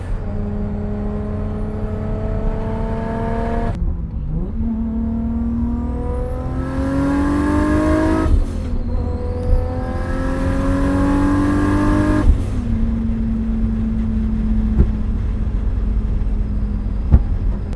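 A heavily modified Nissan R32 GTS-T with a 3-inch exhaust running back to a hollowed-out muffler revs hard and close, its loud, raspy note climbing and falling through several sustained pulls without a break.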